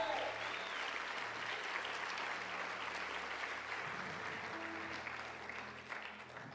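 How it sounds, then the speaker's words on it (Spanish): A church congregation claps together in steady, moderately distant applause that carries on evenly, with a low hum and faint voices beneath it. "Dele un aplauso al Señor."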